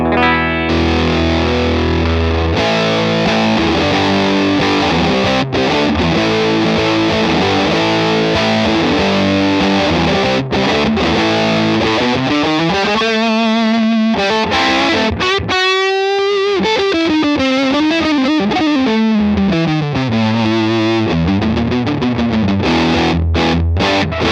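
Electric guitar driven through a Williams Audio Ram Fuzz, a ram's head style Big Muff pedal on an all-analog boutique pedalboard, playing loud, thick sustained fuzz chords and bending lead lines continuously for the whole stretch.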